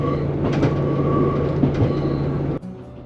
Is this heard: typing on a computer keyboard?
no